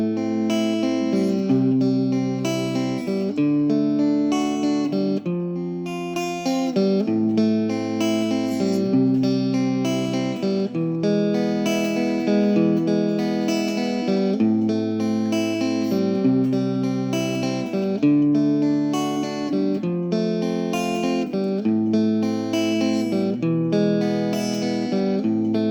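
An acoustic guitar plays an easy arrangement of House of the Rising Sun, picking the arpeggiated chord pattern steadily and clearly with distinct bass notes, solo and without talking.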